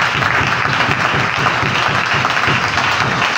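Church congregation applauding for the Lord, sustained dense clapping from a full room, steady and loud throughout without a break.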